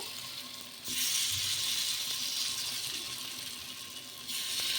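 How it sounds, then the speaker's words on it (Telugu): Bread ponganalu batter frying in hot oil, a steady broadband sizzle that swells loudly as spoonfuls drop in and keeps hissing throughout, with a faint hum underneath and no talking. "ఇలా ఆయిల్ వేడెక్కిన తర్వాత ఇలా మనం పొంగనాలు అయితే వేసేసుకుందాము"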